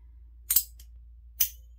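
Two sharp, quiet snaps of a razor blade about a second apart, crisp and close, over a low steady hum.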